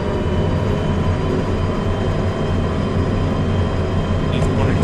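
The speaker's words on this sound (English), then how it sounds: "Try to get our locomotive up to speed." A steady, loud mechanical drone and rumble of a locomotive pulling up to speed on a flat stretch of track in Derail Valley, continuous with no breaks.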